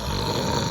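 A voice imitates a character named Norman snoring: a single short, low, rumbling growl-like snore, close and fairly loud.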